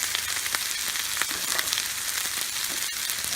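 Chicken fried rice with butter sizzles on a Blackstone flat-top griddle, a steady dense frying hiss with scattered crackles and light scraping taps, close and continuous with no talking.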